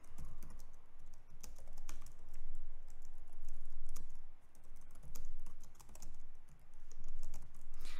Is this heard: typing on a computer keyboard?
yes